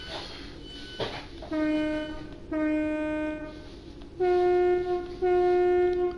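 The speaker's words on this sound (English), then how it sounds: "Checking out horn sounds here very quickly." A train horn sounds in a PS4 train simulator game, giving four blasts of a chiming multi-tone horn, two short and two longer. The blasts are loud and clear over a quiet cab rumble.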